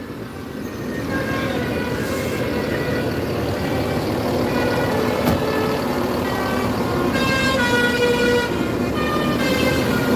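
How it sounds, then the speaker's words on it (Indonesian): A bus from the PO Palala fleet moves along the road behind, its engine droning steadily and fairly loud throughout, with tonal horn notes sounding near the start and again toward the end. "di belakang masuk lagi bus"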